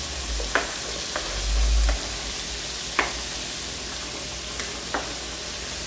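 Calabresa sausage sizzling steadily on a hot griddle, with a constant frying hiss broken by occasional sharp clicks of a utensil scraping and stirring, close and moderately loud, with no voices.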